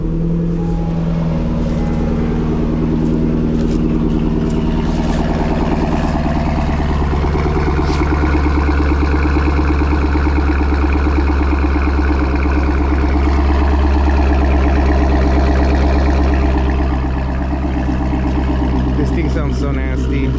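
A C6 Corvette fires up cold after sitting outdoors and settles into a loud, steady, rumbling idle that holds for the full length, close and continuous with no talk over it.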